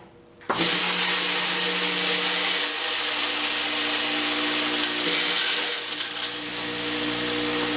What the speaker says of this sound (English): You'll notice that the machine is having difficulty moving the screws through this portion